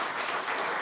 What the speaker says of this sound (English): huge vivacious round of applause